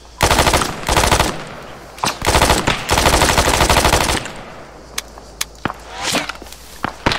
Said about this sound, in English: He's shooting silenced.